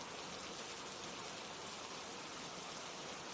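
Rain falls steadily as an even, dense hiss with no breaks. It stays soft and constant throughout, with no other sounds on top.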